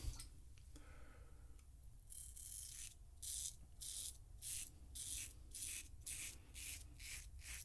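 A heated Caveem razor shaves through five days of stubble in a series of rhythmic rasping strokes, close and fairly loud, with a quieter stretch of handling before the strokes begin.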